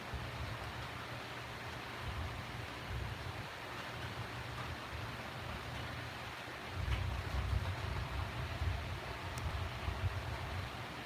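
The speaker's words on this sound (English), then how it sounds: "The water wagon's still rumbling out there." A water wagon rumbles outside on a farm, a steady low broadband rumble that swells louder partway through, continuous and somewhat distant with no talk.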